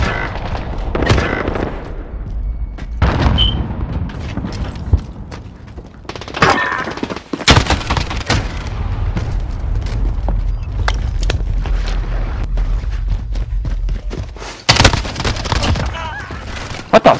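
Modern Warfare Search and Destroy gunfire crackles in loud bursts and single shots across the whole stretch, with booms and sharp impacts. There are short gaps and brief mechanical clicks in between, and no talk is evident.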